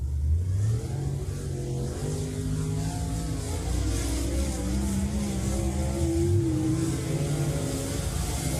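A dirt late model race car engine revs at Deer Creek Speedway during a Lucas Oil Late Model Dirt Series event, its loud, steady mid-pitched roar rising and falling as the throttle works, with no talk over it.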